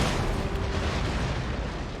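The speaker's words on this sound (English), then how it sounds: "That broadside though there from those 12 guns" A dense, continuous roar of a galleon's 12-gun broadside in Empire: Total War, deep booms blurring into one rolling barrage at steady loudness throughout.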